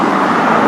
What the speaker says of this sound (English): Sorry, a lot of traffic coming,